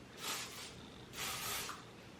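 Two short bursts of hairspray from an aerosol can, a soft airy hiss each lasting about half a second, close to the microphone with a pause between them.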